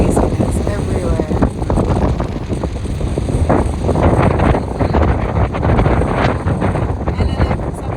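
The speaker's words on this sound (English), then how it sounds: "This wind is almost as intense as I am." Strong outdoor wind buffets the microphone on a flooded farm field during a kayak camping trip, a loud, continuous rumbling roar with gusty surges throughout.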